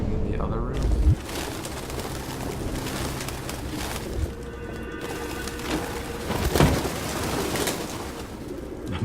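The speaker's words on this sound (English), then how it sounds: "More pigeons in there? How did you guys get in there?" Pigeons coo in a derelict room at Jericho in Detroit Become Human, with soft repeated calls and wing rustles close by, under and between voices talking.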